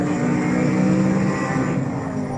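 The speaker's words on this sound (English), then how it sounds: "That car sounds nice." An Audi R8 engine in a racing video game roars at a constant high pitch, a steady droning whine that stays loud and close throughout.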